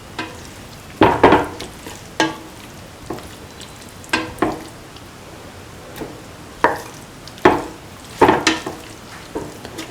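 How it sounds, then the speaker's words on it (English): Beef or veal pieces for a tomato and coconut milk stew are mixed in a pot, with repeated spoon scrapes and clanks over a steady sizzle and no talking. "Put in the beef or veal pieces, mix."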